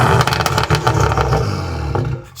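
A BMW engine revving hard, loud and close, with a dense continuous roar and rising, falling pitch throughout, no talk over it.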